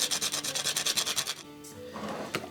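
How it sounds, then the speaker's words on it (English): Half to a quarter of a whole nutmeg scraped over a grater for a pie filling, giving about fifteen quick rhythmic rasping strokes close by, then a quieter stretch with a few faint scrapes. "About 1/2 or maybe 1/4 of a nutmeg, grated."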